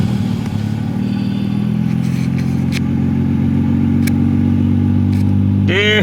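Idling engine of a Nissan Skyline R32 GTR just after an oil refill, a steady, close mechanical rumble with light clatter and a few faint clicks, ending in a short rising whir.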